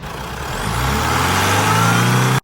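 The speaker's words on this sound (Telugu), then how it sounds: "ఇంజిన్ పరంగా చూసినట్టయితే సింగిల్ సెల్ఫ్కే స్టార్ట్ అవుతుందండి" A Honda City car engine cranks and catches on the first try, then settles into a loud, steady idle close by before cutting off abruptly at the end.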